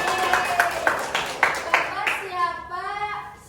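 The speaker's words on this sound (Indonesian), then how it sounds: "Tepuk tangan dulu buat saya" A handful of sharp, irregular claps ring out in a primary school classroom, followed by a voice speaking.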